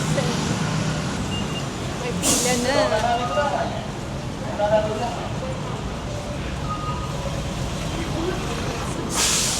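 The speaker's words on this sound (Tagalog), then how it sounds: "Ayun yung bus ko." City bus pulling into a stop in Kyoto, with sharp air-brake hisses at the start and end over steady traffic rumble. A nearby voice talks briefly in between.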